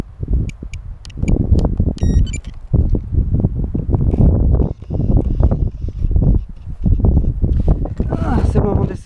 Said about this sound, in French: le vent a l'air de se lever un tout petit peu